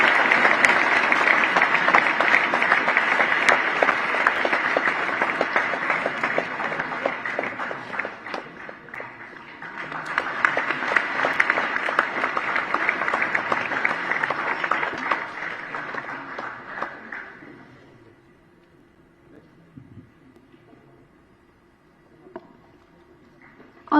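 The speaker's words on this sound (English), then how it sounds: "A louder round of applause" At an anniversary celebration, an audience gives a steady, loud round of applause that dips briefly and surges again. It then dies away, leaving a quiet room with faint scattered sounds.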